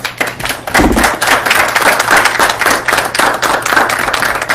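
Audience applause for a young lady at an AMVETS gathering, steady close hand clapping from a small room of people, loud and continuous throughout with no talking.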